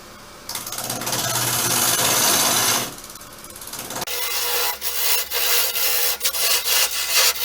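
A wood lathe turns a hawthorn log while a cutting tool shapes a tenon on its end, giving a loud, close scraping hiss that breaks off, then returns as rougher, pulsing cuts.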